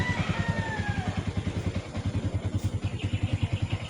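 A motorcycle engine warming up before an early morning trip, a close, steady, rapid pulsing putter with a faint higher whine early on.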